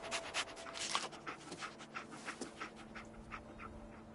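A dog companion in Fallout 4 pants and whimpers in quick, breathy bursts, fairly close and moderately loud, easing to softer panting toward the end with no talk over it.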